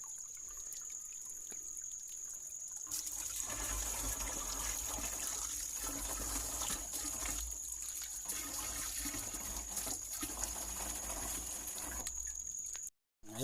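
Water from a mountain spring gushes into containers far from any houses. A steady, full splashing flow runs without a break for most of the stretch, then cuts off abruptly near the end.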